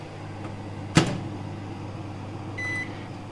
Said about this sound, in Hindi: हमारा जो माइक्रोवेव है वो प्री हीट हो गया है, अब हम रखेंगे इसमें पिज्जा बेस